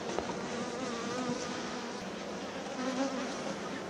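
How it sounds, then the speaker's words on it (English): Honey bees in an open hive give off a close, continuous buzzing hum that stays even throughout, with no talking. "as you can see, the bees are not moving around very much"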